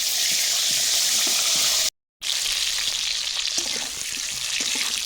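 Cauliflower frying in oil in a pan: a loud, continuous crackling sizzle close up. It cuts out to silence for a moment partway through, then resumes just as strong.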